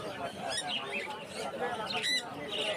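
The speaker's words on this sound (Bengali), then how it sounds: "নিচে কিছু টিয়া পাখি দেখতে পাচ্ছেন" Parrots squawk in harsh, repeated bursts at a crowded bird market in Mirpur 1, Dhaka, with people talking close by throughout.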